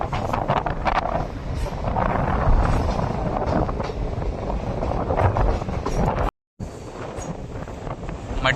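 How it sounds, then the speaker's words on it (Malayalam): Konkan Railway passenger train pulling into a station during monsoon, a steady loud rumble of wheels and wind buffeting the microphone, with a brief cut near the end before the rolling noise resumes. "ട്രെയിൻ ഇതാ പള്ളി റെയിൽവേ സ്റ്റേഷനിലേക്ക് എത്തിക്കുകയാണ്."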